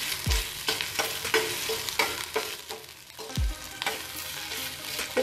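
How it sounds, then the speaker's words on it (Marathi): Ginger, garlic and green chilli sizzle in hot oil in a pan, with continuous crackling frying and repeated scraping stirs, including two heavier knocks against the pan, close and without speech. "आणि हे थोडं आपण फ्राय करून घेऊया."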